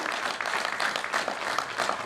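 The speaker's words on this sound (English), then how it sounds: "I request all of you to give this applause for Mr. Reddy" Applause from a conference audience: a dense, steady wash of many hands clapping together, fairly loud and continuous, with no clear talk over it.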